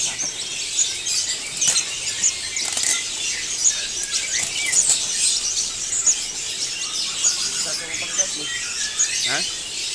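Cucak jenggot birds in cages at a bird shop give sharp, high chirps and squeaky calls repeating across the scene, with people chatting nearby.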